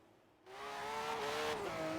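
Porsche 996 GT3 in Forza Horizon 3 pulling away after near silence, its engine rising sharply in pitch and loudness as it accelerates, with a gear change audible midway, close and without talk.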